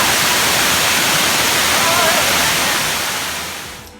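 Bacho Waterfalls heard from its basin in a tranquil forest: a loud, dense, continuous roar of falling water that holds steady before fading near the end, with no voices.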